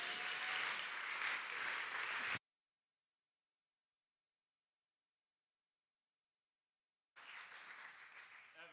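An audience applauding as speakers are welcomed at a victory dinner, a steady wash of clapping from a crowd in two bursts split by a silent gap.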